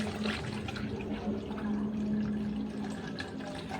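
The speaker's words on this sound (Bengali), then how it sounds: "প্রথমে আমি জলটা দিয়ে নিলাম।" Water poured into a vessel for wood apple (bel) sharbat, a steady close pour running throughout with no talk.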